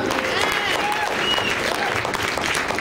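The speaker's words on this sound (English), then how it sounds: "Let's give them all a big round of applause this time." Loud, sustained clapping from a live show audience fills the whole stretch, a thick wash of many hands with a few cheers and whistles rising through the crowd noise.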